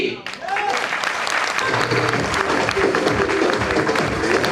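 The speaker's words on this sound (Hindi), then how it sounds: "आप जोरदार तालियों से स्वागत करेंगे" Loud audience applause at a seminar in Delhi as a speaker is welcomed onto the stage: a dense, sustained roar of many hands clapping with some voices and cheers mixed in.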